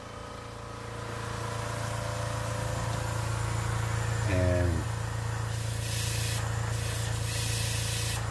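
An air assist pump blowing air through a Monport 40W CO2 laser gives a steady, loud hissing rush over a low motor hum, with a brief tonal chirp midway and rising hiss toward the end.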